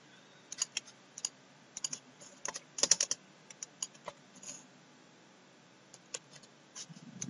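Computer keyboard keys are pressed as modeling shortcuts, sharp isolated clicks and short clusters of taps coming irregularly in a quiet room, close and crisp.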